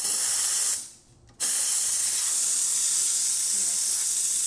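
The steam wand of a Pasquini Livia G4 espresso machine hisses loudly and continuously after a full service tune-up, briefly dropping out for a moment before the strong, steady spray resumes.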